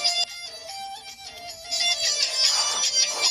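A phone ringtone plays, a bright, repeating electronic melody at moderate loudness that continues steadily throughout, with no speech over it.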